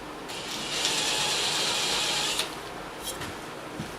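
A cordless drill countersinking a drilled hole gives a steady, whirring grind for about two seconds, then stops, followed by a few light clicks and taps, close by with no voices.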